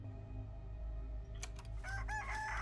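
A chicken crows inside a video game, one loud crow breaking in partway through over a steady low game hum, its calls rising near and clear.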